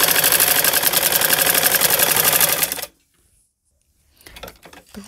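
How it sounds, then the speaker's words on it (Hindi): A sewing machine runs fast and loud, stitching a straight seam on folded fabric for a drawstring, then stops abruptly, leaving near silence before faint handling noises return. "बिल्कुल हमें सीधी सिलाई लगानी है"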